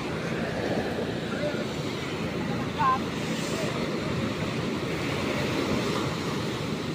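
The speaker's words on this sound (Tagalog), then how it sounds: "Ba, malalaki ang alon." Large ocean waves break steadily against a shore in a constant rushing wash, with wind buffeting the microphone and one brief louder thump midway, with no clear talk.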